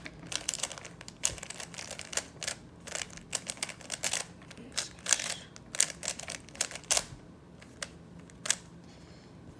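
A 3x3 Rubik's cube is twisted rapidly to scramble it, giving a dense run of crisp plastic clicks and clacks that rise and fall in quick bursts, close up, with no talking.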